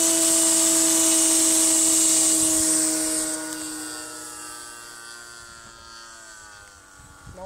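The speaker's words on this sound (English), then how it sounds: "I'll just do a low flyby" A Lancair model airplane sweeps past in a low flyby, its loud engine whine strong at first and then fading with a falling pitch as it moves away.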